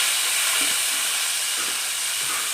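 Onion, chili and garlic frying in a pan on an electric stove, a steady loud hiss and sizzle that continues without a break, with faint low clatter underneath.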